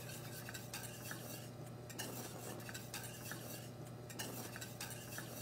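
Constant whisking in a pot of a rapidly boiling, expanding strawberry mixture: a dense, continuous scraping and bubbling with rhythmic metallic strokes against the pot, no voices.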